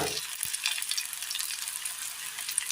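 A sprig of curry leaves hits hot oil in a pan, setting off a loud, close, continuous sizzle and crackle that holds steady without any voices.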